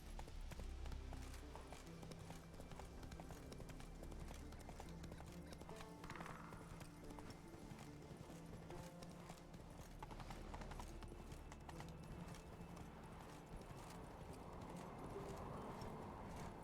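Horse hooves galloping at a steady rhythmic clip-clop in The Witcher 3: Wild Hunt, with a brief whinny partway through, over continuous game ambience and a music bed.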